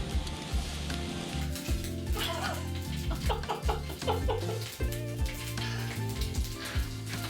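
Egg noodles for chow mein sizzle and crackle in a hot pan while being flipped, with bursts of spatula scraping and clatter over a steady frying hiss, fairly close and loud, with music playing underneath.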